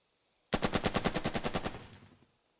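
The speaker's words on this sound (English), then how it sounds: "And do I shoot here? I think yes. Suppressive fire." Suppressive gunfire in the tactical war game Burden of Command: a rapid burst of about fourteen evenly spaced machine-gun shots, loud and close, trailing off into a fading echo with no talk.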